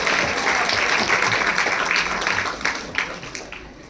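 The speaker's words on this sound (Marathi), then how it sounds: "एकदा आपण जोरदार टाळ्या वाजवूया त्यांच्यासाठी." Audience at a school website inauguration ceremony applauding a teacher with loud, sustained clapping that thins slightly toward the end.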